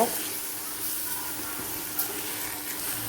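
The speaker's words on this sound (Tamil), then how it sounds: "துருவி வச்சுருக்க தேங்காவை போட்டு நல்லா கிளறுங்க" Grated coconut stirred into banana flower and drumstick leaves frying in a pan, giving a soft, steady sizzle and light scraping. Brief bumps of utensil noise come through.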